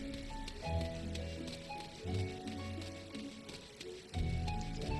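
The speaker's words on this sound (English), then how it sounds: "Okay, now it's raining." Rain falls in the game Final Fantasy XIV: Endwalker, a steady soft patter beneath a melodic game score that swells and fades in phrases.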